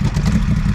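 A Moto Guzzi Griso motorcycle engine runs with a steady, loud low-pitched rumble and clatter, heard close up and alone for under a second.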